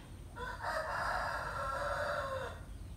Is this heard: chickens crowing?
yes